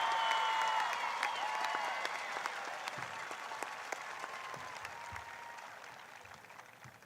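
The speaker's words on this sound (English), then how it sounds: "Let's give a big round of applause for our students earning departmental awards from our faculty." A high school graduation audience applauds students receiving departmental awards. Broad, crowded clapping starts strong and gradually tapers off over several seconds, with a few sharper individual claps and faint high whistles threaded through.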